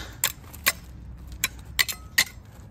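Half a dozen sharp, brittle cracks and clinks of ice being broken snap at irregular intervals over a low, quiet background rumble.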